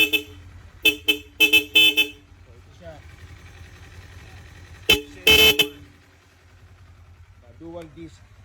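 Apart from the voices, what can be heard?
motorcycle dual horn honking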